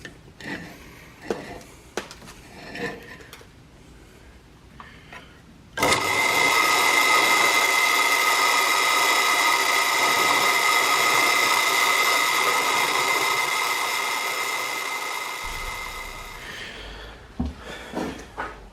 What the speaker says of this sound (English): So I'm going to drill this